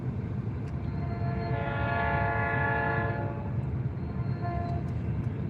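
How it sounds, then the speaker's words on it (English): A commuter train approaches and sounds a long, steady horn blast of about two seconds that fades out, heard over a constant low rumble. "you hear this train coming now? That's one of those commuter trains now."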